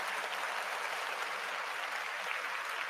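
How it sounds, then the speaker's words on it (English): Steady, dense clapping from a crowd, continuous and fairly faint, with no voices standing out. "can we give this a round of applause?"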